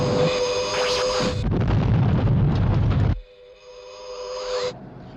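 Weapons fire aboard a craft in the UFO TV series, a loud roaring blast for about three seconds, followed by a quieter whooshing tone that fades.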